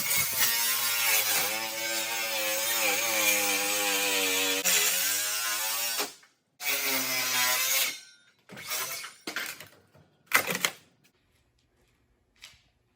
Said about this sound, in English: it's fairly easy to cut aluminum siding on a camper